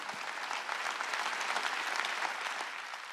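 A crowd claps steadily and evenly for a few seconds, a dense, continuous wash of applause.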